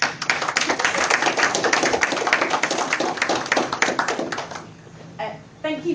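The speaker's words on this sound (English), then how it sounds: "And please clap." An audience at a community voting-campaign event claps densely and steadily for about five seconds before the applause thins and fades out.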